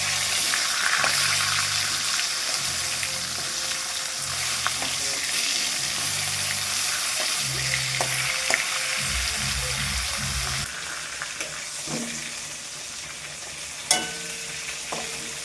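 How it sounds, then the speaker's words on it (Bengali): Fish heads fry in hot oil in a kadai: a continuous loud sizzle with scraping and clattering as they are stirred and turned, a few sharp knocks near the end. "এবারে কড়াইতে তেল গরম করে মাছের মাথাগুলো ভালো করে ভেজে নেব।"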